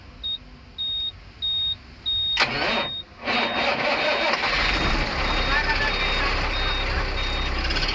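A truck kept running after starting, its engine a steady rumble building under repeated reversing beeps early on, with a voice talking over the sound.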